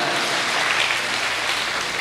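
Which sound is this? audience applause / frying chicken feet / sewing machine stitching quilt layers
audience applause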